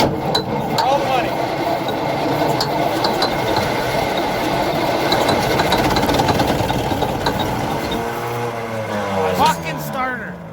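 An old abandoned rig engine, unstarted for over 30 years, cranks and tries to catch with rough rattling and knocking, loud and close, under excited talk, before winding down.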